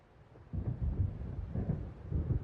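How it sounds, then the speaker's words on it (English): In the video game Alan Wake, thunder from an approaching storm near a lake rumbles low and steady, a deep continuous roll at moderate distance with no voices. "It seems there's a storm coming."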